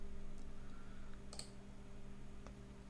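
A computer mouse double-clicking on a KDE desktop: a sharp, quick pair of clicks stands out near the middle over a steady background hum, with a fainter single click later.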